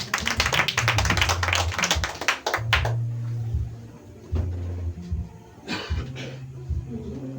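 A church congregation claps for Jesus in quick, dense applause that thins into scattered claps, with a low voice humming or speaking underneath.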